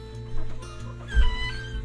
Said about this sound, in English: We're in the chicken house, little chicken shack